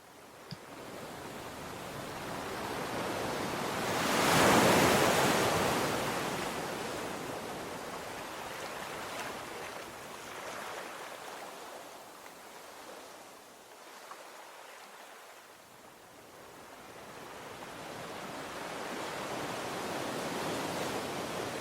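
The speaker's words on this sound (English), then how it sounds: "hear the sounds of waves gently rolling onto the shore" Steady ocean surf washes onto a shore with a soft broadband hiss, swelling to a louder wave break early on, then easing and building again, continuous and unaccompanied.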